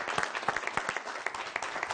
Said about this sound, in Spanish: Un aplauso aquí también.